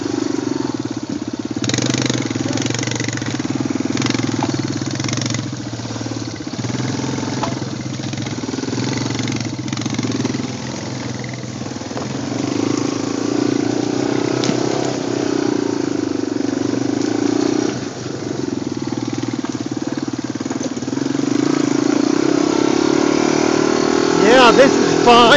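Three- and four-wheeler ATVs ride a mountain trail, with a steady, loud engine drone that rises and falls slightly throughout, heard close from onboard.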